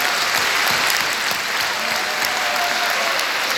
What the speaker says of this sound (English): We will celebrate them now with a round of applause.